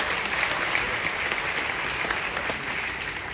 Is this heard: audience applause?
yes